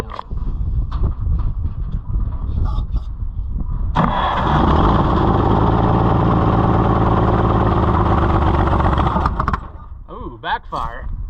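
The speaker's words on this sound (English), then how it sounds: "Ooh, backfire." An old Oliver 70 tractor engine is fired up and runs loud and rough for several seconds, its steady roar ending abruptly. Voices are heard before and after.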